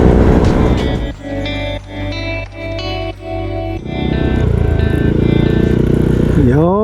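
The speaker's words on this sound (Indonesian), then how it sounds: "Anginnya kenceng banget, gila." Riding a Yamaha Aerox scooter on a long road tour, strong wind roars and buffets across the microphone under a droning engine tone whose pitch shifts, loud and close throughout.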